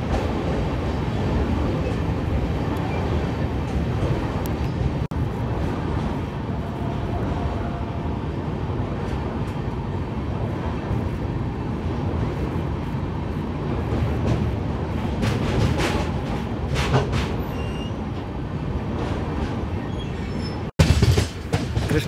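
A superfast express train running between Kakinada Port and Bhavnagar, near the Krishna canal junction as it turns onto the Guntur line, rumbles steadily on the rails for the whole stretch with clacking wheels and a brief sharp burst near the end.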